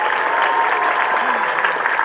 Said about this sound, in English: Please give all of our graduates another big round of applause